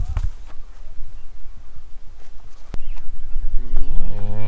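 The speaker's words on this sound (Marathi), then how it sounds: "आणि इथे मस्त आपले गौमाता पण आहेत बघत, स्वतःचे गाय आणि बैल." Cows and bulls on a strawberry farm in Mahabaleshwar give loud, close moos, with a long lowing call building near the end over shuffling background noise.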